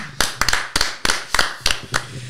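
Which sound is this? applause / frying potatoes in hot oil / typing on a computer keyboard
applause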